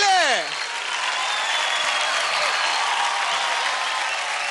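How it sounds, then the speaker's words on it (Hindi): Loud, dense applause from a television dance show audience on stage, starting right after a brief voiced tail and sustaining steadily without pause. "जोरदार तालियां हो जाए सलाम के लिए"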